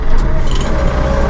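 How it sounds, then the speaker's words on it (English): A Massey Ferguson 2M.60 compact utility tractor with a power shuttle cab runs with a steady, close, low diesel rumble that stays even across the short moment, with no talk. "We're going to just fire it up and lower the loader here."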